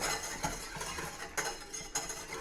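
Milk powder stirred into water, a spoon or whisk scraping and clinking against the container in quick, uneven strokes, moderately close and without talk.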